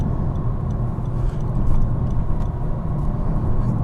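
A Honda Civic Type R accelerates onto a motorway with a steady, low engine and road rumble heard from inside the car. No one speaks.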